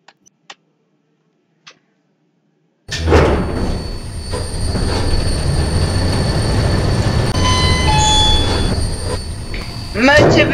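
A KONE EcoDisc KSS 280 elevator motor in a Roblox game hums steadily after a few isolated clicks, with a loud continuous whirring drone and faint high tones, building slightly toward the end.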